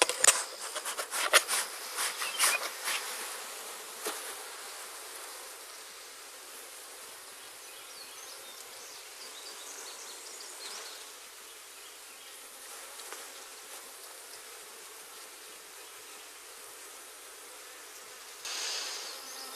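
Honey bees humming around a freshly opened hive at harvest time, a steady soft drone that carries through the whole stretch, with a few close buzzing passes and light rustles near the start.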